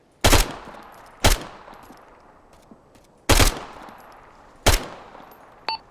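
Gunfire in the tactical military game Arma 3: four sharp, loud shots in an uneven sequence, each cracking out with a short decaying tail, the last one smaller and quieter.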